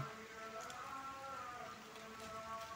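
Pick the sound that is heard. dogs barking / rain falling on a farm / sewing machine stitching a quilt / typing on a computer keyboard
rain falling on a farm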